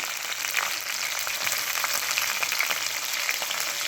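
Sliced onions and green chillies dropped into hot oil with cumin seeds, giving a dense, even, close sizzle that holds steady throughout with faint crackles.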